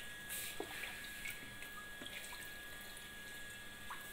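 Water poured into a jug holding a little garlic, a faint, steady splashing trickle with occasional small drips, quiet and close, with no talking.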